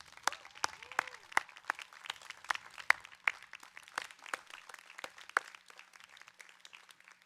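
A crowd at a college commencement ceremony claps in a round of applause, scattered individual claps, sparse and fairly faint, tapering off over several seconds.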